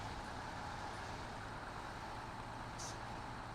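Voron truck driving in the game SnowRunner, a steady, loud low engine drone with road-like rumble that runs unbroken through the whole stretch, with no voices.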